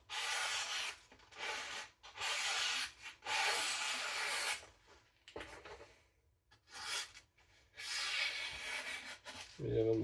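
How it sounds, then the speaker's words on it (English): A gyuto chef knife is sharpened with long, close rubbing strokes that come in rhythmic bursts, broken by short pauses. "It's a whole movie watching me sharpen."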